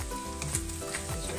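Bacon and garlic sizzle in hot oil in a pan, a steady close crackle with faint low background hum throughout.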